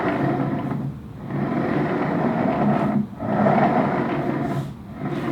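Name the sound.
original Hydrow rowing machine seat gliding smoothly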